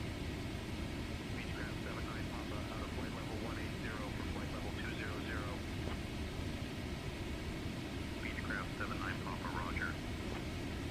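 A Boeing 777-300 in a flight simulator descending from about 27,000 feet, a steady low engine and airflow rumble that fills the whole clip, with faint radio-like voices warbling above it.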